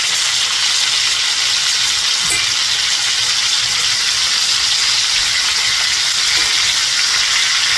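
Oxtail pieces sear in a hot pan, browning for braising, producing a loud, steady, close sizzle that fills the whole stretch without pause or talk.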